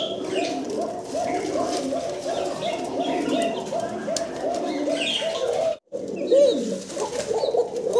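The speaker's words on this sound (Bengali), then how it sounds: "চমৎকার ডাকাডাকিতে ব্যস্ত এক জোড়া বাসিরাজ ককা" A pair of Bashiraj pigeons coo steadily and close by, their low rolling calls overlapping in a continuous chorus with a brief break near the end.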